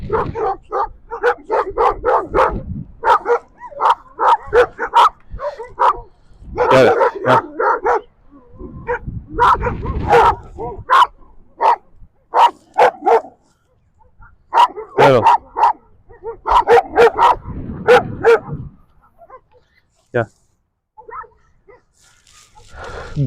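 Several stray dogs on a beach bark repeatedly nearby in loud, irregular bursts, with some yips and whimpers between the volleys and brief quieter pauses.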